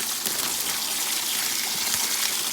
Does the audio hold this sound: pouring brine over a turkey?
yes